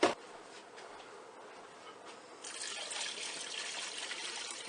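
Water trickles and pours steadily into a pot of ham bean soup holding ham broth, getting a touch louder and fuller partway through, close by with no talking.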